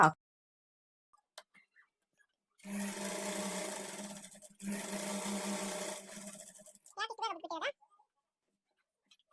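A sewing machine top-stitches a child's lehenga in two steady mechanical runs of about two seconds each with a brief pause between, then goes quiet before a short voice is heard.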